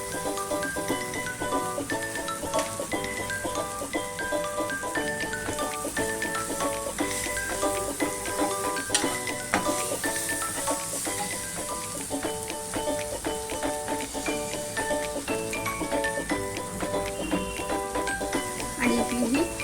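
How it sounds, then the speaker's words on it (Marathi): Spice mix and coarse chilli frying in a pan for paneer bhurji, a continuous close sizzle with repeated metallic clinks and scraping of stirring throughout, dense and unbroken. "आणि हे सगळे मसाले एकत्र आता चांगले शिजवून घ्यायचे."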